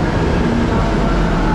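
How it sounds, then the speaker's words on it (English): A metro train pulls into a station in BGC, Manila, producing a loud, steady rumble and roar that fills the whole moment with no break. "we got the metro coming right here"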